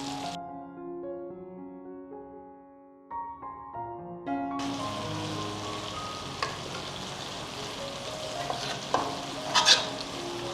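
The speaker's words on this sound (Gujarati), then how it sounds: "હવે આ બાજુ વઘાર પાકતો રહેશે, ટમેટા ચડતા રહેશે" Tempering for a Gujarati moong curry sizzles in a pan as tomatoes cook. A quieter tonal stretch gives way to a loud, steady crackling sizzle with sharp pops, close and alone.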